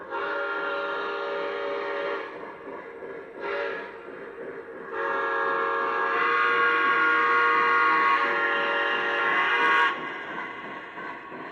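A Lionel model train locomotive runs steadily on a Legacy-controlled layout, sounding a long, loud horn in sustained blasts with short breaks, the steady drone carrying throughout.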